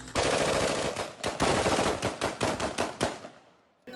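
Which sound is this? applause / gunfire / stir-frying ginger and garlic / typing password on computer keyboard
gunfire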